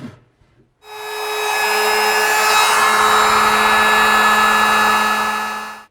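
A router fitted with a 1/4-inch slot cutting bit cuts a groove into the edge of a wooden cupboard board, a loud, steady high-pitched whine that starts abruptly after a brief quiet moment and holds for several seconds.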